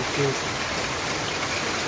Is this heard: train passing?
no